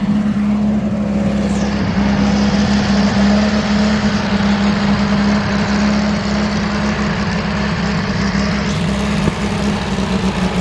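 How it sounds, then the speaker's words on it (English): A 1970-71 Volkswagen Baja Bug's engine idles outside with a loud, steady, low air-cooled drone that holds evenly throughout with no one speaking. "It's got your typical Volkswagen sound."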